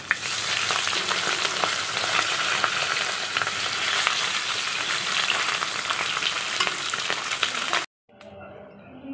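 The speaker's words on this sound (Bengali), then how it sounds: "মাছটা এত টাটকা যে ভাজার সময় দারুণ একটা গন্ধ বেরোচ্ছে" Fresh katla fish, along with its roe, fries in hot oil with a steady, close hiss and crackle that runs loud and unbroken, then cuts off abruptly near the end, leaving faint background noise.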